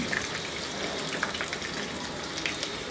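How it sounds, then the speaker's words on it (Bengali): A large onion and an inch of ginger fry gently in a pan over medium-low heat, giving a steady, even sizzle with occasional faint pops and no voices. "একটা বড় সাইজের পেঁয়াজ আর এক ইঞ্চি পরিমাণ আদা এভাবে কেটে নিছি এগুলা দিয়ে একটু ভেজে নিব"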